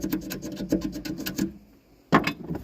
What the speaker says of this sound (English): I'll just go in, kind of scrape it so I can make an arc.